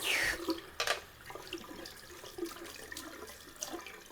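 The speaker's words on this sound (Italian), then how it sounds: "guarda come va via l'acqua" Faint, sparse trickles and drips of shaving rinse water draining away in a sink, with a few soft splashes and clinks, quiet between them.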